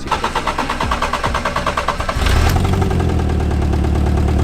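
A car engine cranks with a rapid rhythmic starter whir, catches, and settles into a steady, close idle.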